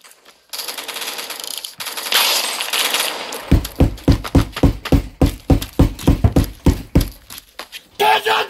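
Rapid, evenly spaced bursts of automatic gunfire ring out in Roblox Phantom Forces console gameplay, preceded by game noise and a voice.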